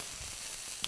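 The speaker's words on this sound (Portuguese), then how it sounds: "Olha que coisa maravilhosa ficou essa fritura aqui." A hamburger patty fries in a pan with a loud, dense, even sizzle that holds steady throughout, with one small pop near the end and no voices.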